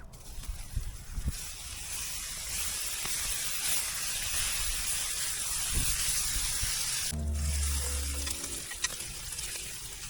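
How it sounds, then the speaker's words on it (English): Bacon sizzles on a flat-top griddle with a steady, close hiss that holds throughout, broken by a few soft clunks near the start and a brief low thud near the end. No one speaks. "So I'll just make up this bacon, we will cut up what we need"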